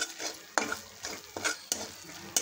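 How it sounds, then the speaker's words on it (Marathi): Spices with turmeric, red chilli and coriander powder being stirred and sautéed in a pan for rajma curry, a soft sizzle under repeated scraping strokes of a spoon, close and quiet. "चांगलं परतून घ्यायचं आहे।"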